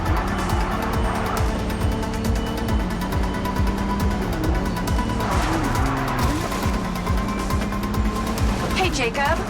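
Car engine droning steadily through a MindsEye driving sequence, with revving pitch sweeps and occasional tire squeal over continuous game audio and music, while voices talk over it.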